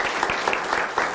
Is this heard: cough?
no